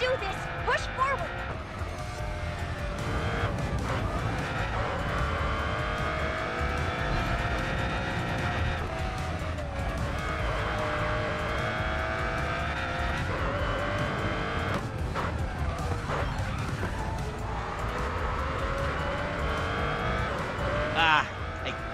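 A race car with a 7.3-liter V12 engine roars steadily in Racing Master, its engine note rising and falling through gear changes with occasional tire squeal, loud throughout while a voice talks over it.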